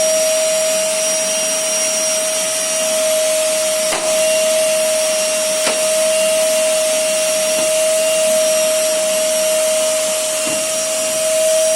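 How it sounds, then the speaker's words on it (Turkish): A vacuum cleaner runs steadily with a constant high whine and drone, with a few faint knocks along the way. "Mehmet Ender evi süpürüyor."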